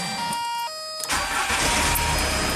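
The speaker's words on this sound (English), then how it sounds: "Let's start the car without the wipers." A Volkswagen car engine cranks and catches after a quiet chime, then settles into a loud, steady idle close by.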